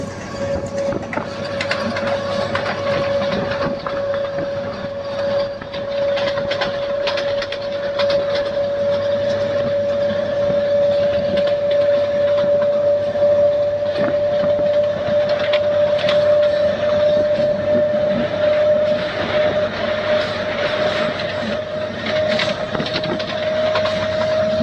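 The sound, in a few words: MEMU train running fast, Vijayawada-Bhadrachalam line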